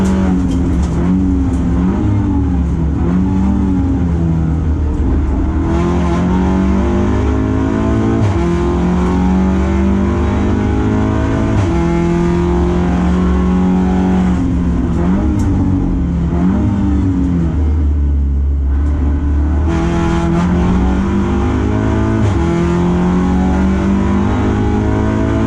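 A TCR Audi RS3 with DSG gearbox and rival endurance racers accelerate through gears, engines rising and falling in steady loud sweeps, close by and continuous with no talk.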